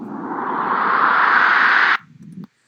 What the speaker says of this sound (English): Most drum and basses use risers,